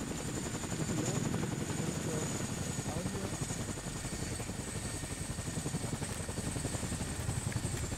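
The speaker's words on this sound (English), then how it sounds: "get on the Chinook" A Chinook helicopter in a military video game gives a continuous rotor thump and engine drone at moderate loudness, with players talking over it throughout.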